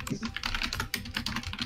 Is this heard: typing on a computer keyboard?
yes